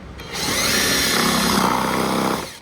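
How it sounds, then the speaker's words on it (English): A power drill whirs steadily at full speed for about two seconds, grinding through a plastic hole on a 2023 Dodge Hornet, then spins down. No talking. "So we're just drilling out that plastic"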